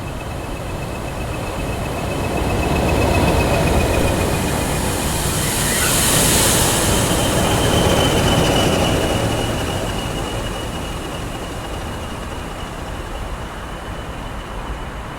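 A railhead treatment train runs along the line near Church Fenton toward Gascoigne Wood, with a steady rumble and rolling wheel noise that swells mid-pass, plus a faint high squeal, lasting throughout.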